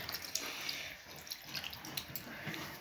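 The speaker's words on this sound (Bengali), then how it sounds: "এবার আমি থালা ধুয়ে জল খাবো" A plate being rinsed under running water, a soft steady stream with light splashes and drips, faint and close with no talk.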